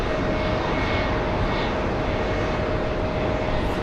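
A Singapore Airlines Airbus A350-900 ULR jet airliner at JFK airport gives a constant, loud engine roar. A steady whine runs beneath the broad rush for the whole stretch.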